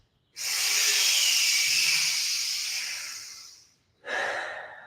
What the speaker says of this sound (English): Can you breathe strong here for 3 more breaths?